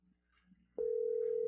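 A steady telephone tone from a call placed on a computer, a single sustained pitch starting partway through and holding loud to the end after a few faint background sounds.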